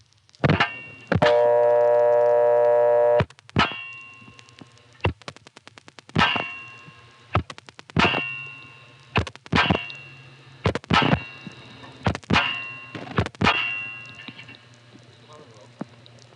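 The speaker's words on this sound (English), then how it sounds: "It's that same ring, although it's very short because it's tripped almost immediately." A 1976 step-by-step telephone exchange in Rawlinsville, Pennsylvania, gives a very brief ring on a non-working number, then a train of sharp metallic clicks and clanks from the switching gear, close and distinct against a low hum.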